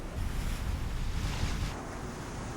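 Sea waves wash steadily in a broad, hissing rush with a low rumble beneath, brief and continuous, with no voices.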